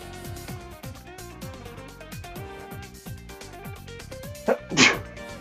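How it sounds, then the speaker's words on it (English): A single sharp sneeze bursts out near the end, following a short intake, over a steady background of music with repeating low notes. "Gotta sneeze."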